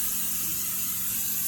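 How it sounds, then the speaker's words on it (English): Cooking spray hisses steadily onto salmon fillets, a short continuous close-up spray with no talking. "You want to spray the fish,"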